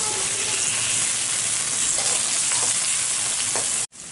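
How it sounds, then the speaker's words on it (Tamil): Tomatoes sizzle steadily in hot oil in a pan while cooking for Kongu-style country chicken (nattu kozhi) rasam. A loud, even frying hiss runs throughout and cuts out briefly near the end. "தக்காளி நல்லா வதங்கிடுச்சு."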